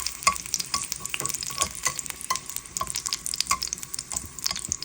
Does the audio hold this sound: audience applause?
no